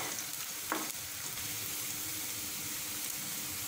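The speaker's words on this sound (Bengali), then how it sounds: "পেঁয়াজটাকে দিয়ে ভালোভাবে নেড়েচেড়ে ভেজে নেব।" Half a cup of chopped onion frying in a pan for a Bengali kochur loti dish with dried fish, a steady close sizzle with a brief stirring scrape near the start, no voices.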